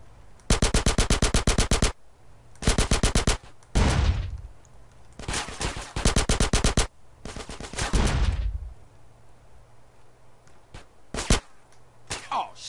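Bursts of automatic gunfire in GTA San Andreas, loud rapid strings of shots in several separate volleys with gaps between, plus a few single shots near the end.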